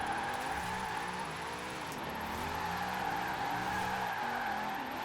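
A Formula Drift Corvette in Forza Horizon 4 slides in a sustained drift with a steady tire squeal over a loud, close engine drone, and no voice is heard.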